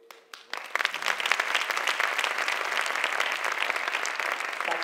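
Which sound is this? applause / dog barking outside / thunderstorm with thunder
applause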